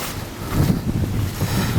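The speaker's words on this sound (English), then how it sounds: "Oh, we've got the wind picking up now." Outdoor wind picking up on a walk around Mons Hill, a steady roaring rush with low buffeting gusts against the microphone, loud and continuous with no speech.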